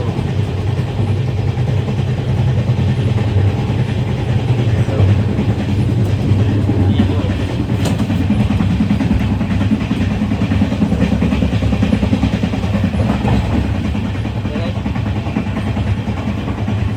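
A passenger train on the Konkan route from Mumbai to Goa rumbles steadily from inside a carriage, a loud continuous roar with faint rhythmic clatter and scattered background voices.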